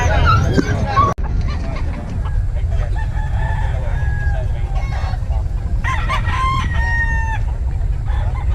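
Roosters crow repeatedly at a poultry sale, with chickens clucking and fowl calling around them; several loud, drawn-out cock-a-doodle-doos overlap in a busy, noisy setting, with a sharp thump early on.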